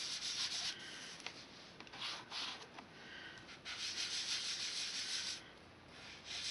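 Steady soft rubbing of ink being blended across cardstock for a birthday card, a dry scrubbing texture that swells and eases in short strokes, close and continuous with no talking.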